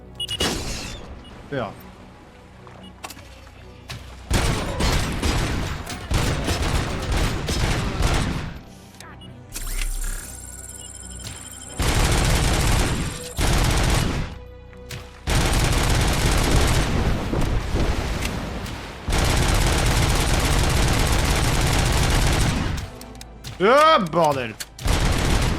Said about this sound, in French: c'est un genre de cas où je vais peut-être apprécier le mode en rafale.